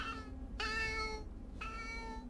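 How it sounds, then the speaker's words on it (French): A black cat in the horror film The Grudge (2004) meows twice, clear drawn-out tonal cries over a low steady background hum. "C'est beau, les chats noirs."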